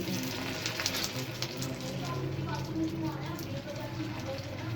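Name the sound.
shami kababs frying in a pan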